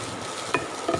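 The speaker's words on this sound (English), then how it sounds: "Saute it nicely." Garlic, ginger, chilies and fresh herbs sauté in a pan with a steady, soft sizzle and two brief scraping stirs, close and without talk.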